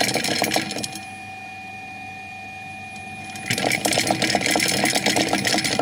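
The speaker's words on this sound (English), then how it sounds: "when I turn on the 3-phase power, they start spinning and go down very rapidly" A four-magnet flywheel spun by three-phase power hums with a steady tonal whine, with rattling mechanical clatter before and after a quieter middle stretch.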